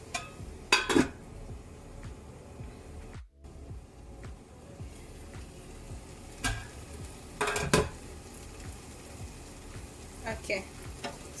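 Egg cooks in a pan with a low, steady sizzle and a few sharp clinks of a utensil against the pan, fairly quiet throughout.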